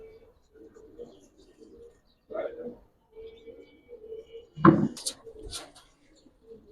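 Giribaj pigeons in a loft give soft, low, repeated cooing phrases at close range, separated by short pauses, while a person talks briefly over them.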